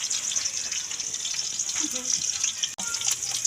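Water pours steadily into a cooking pot as a continuous bright splashing rush, fairly close and even in level, with a brief break near the end.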